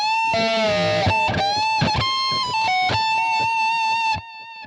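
Distorted electric guitar plays the opening measure of a song, a fast run of sustained, heavily overdriven notes with bends and slides, loud and alone, ending with a ringing note that trails off.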